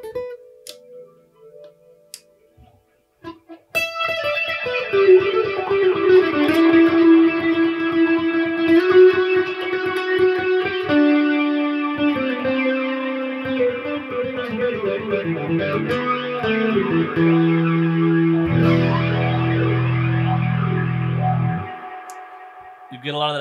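A PRS Hollowbody II guitar with its electric and piezo acoustic pickups blended plays a sequence of plucked notes and ringing chords, bright percussive attacks over sustained tones, ending on a low strum; a few quiet clicks precede the playing.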